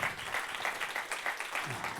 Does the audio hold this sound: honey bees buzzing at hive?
no